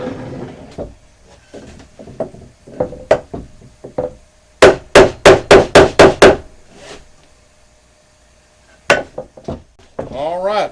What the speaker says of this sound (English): I'm going to get me a hammer and tap these down